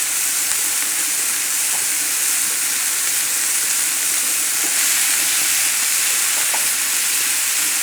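Salmon sautéing over a high flame in wine and stock, giving a loud, steady sizzle and hiss that runs unbroken throughout with no voices.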